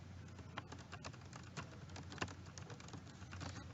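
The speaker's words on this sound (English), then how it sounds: "now typing in the yellow box what her question is" Typing on a computer keyboard, rapid irregular key clicks in a quick continuous patter, faint and close, with no voices.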